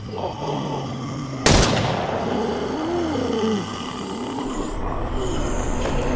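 A single sharp shotgun blast from a prison-break survival video game, loud and abrupt, followed by a rumbling decay under a low groaning in-game creature sound.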